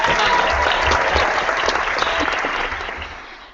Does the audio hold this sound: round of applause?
yes